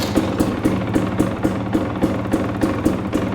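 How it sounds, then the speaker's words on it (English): KTM TPI two-stroke dirt bike engine idling low, a steady rhythmic putter of evenly spaced pulses, close and fairly loud, with no talking. "we're going to see how close the idle is"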